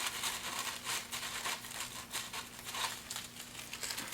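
Perm paper being handled while repairing thinning shears: a continuous faint crinkling and rustling of thin paper, close and soft, with a low steady hum underneath and no voices.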